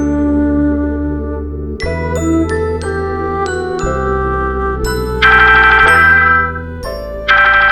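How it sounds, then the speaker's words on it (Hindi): A synthesized phone ringtone plays a bright, repeating melody of chiming notes, loud and close, with no voices. "फोन आया है, आओ जल्दी आओ"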